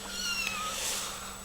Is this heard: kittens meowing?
yes